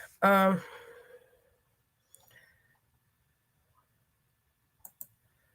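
A computer mouse gives a few faint, sharp clicks spaced apart in a quiet room, following a brief vocal sound at the start.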